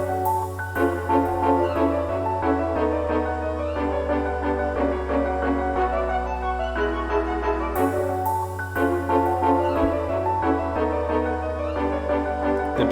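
The outro of an orchestral waltz-style song, with a busy piano arpeggio, staccato violin, deep bass and ride cymbals, playing densely and loudly throughout with no voices.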